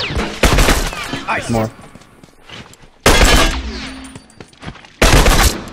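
Three loud bursts of rapid gunfire in The Last of Us multiplayer, each a sharp fusillade separated by quieter gaps, with a player's voice speaking between shots.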